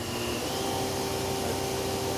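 2009 Fadal VMC-6030HT boxway CNC vertical machining center spindle running at high RPM in the high gear range, a steady dense whine and roar with no change throughout.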